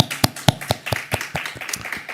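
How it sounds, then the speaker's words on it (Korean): A church congregation claps in unison after a sermon on Matthew, producing loud, regular claps at a brisk steady tempo, roughly four per second, with a slight room echo and no talking. "우리 하나님께 영광의 박수 제가 올려드립니다"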